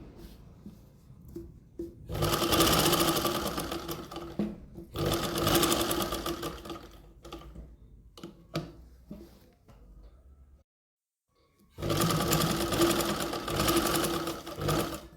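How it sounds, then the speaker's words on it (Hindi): A sewing machine stitches along a kurti neckline that is being made with buckram, running in three loud sustained bursts with short pauses and a silent gap between them. "जैसे आपका नेक आ रहा है बिल्कुल उसके साथ साथ लगाते हुए आपको ये सिलाई लेके जानी है"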